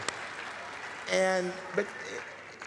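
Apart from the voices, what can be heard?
audience applause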